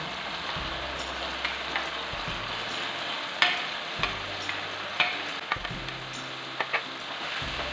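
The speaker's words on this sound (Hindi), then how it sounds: "अब इसके अंदर मैं डाल रही हूँ बैंगन, जो मैंने 1 kg लिए थे और उनको मैंने रोस्ट करके उनको मैश कर लिया था" Roasted, mashed brinjal is tipped into a pan and stirred, a steady frying sizzle broken by sharp spoon-on-pan knocks and scrapes at irregular intervals, with a low rumbling hum underneath and no talk.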